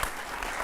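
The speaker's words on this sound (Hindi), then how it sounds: "अब तालियां आखिर लाइन पे।" Audience clapping at a Hindi comedy poetry recital, a brief dense burst of applause from a crowd, loud and sustained throughout the short moment.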